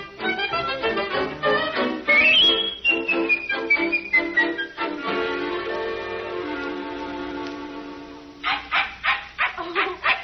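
A small Pekingese dog yaps and whines in rapid bursts, fairly close, with a high whistling tone sliding through the middle and soft music underneath.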